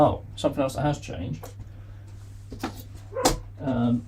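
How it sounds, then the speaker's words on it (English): A dog barks downstairs in a home, a few short muffled barks sounding faint and distant beneath someone talking close to the microphone, with a steady low hum underneath. "you can hear my dog downstairs"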